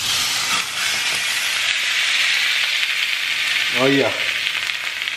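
Steak searing in hot high smoke point cooking oil in a pan, a loud, even sizzle throughout, with a short spoken remark near the end.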